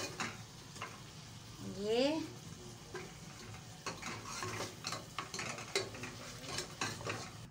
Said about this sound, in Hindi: ये अब मैं इसे डिश में निकाल रही हूँ